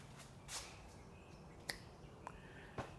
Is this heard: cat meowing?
no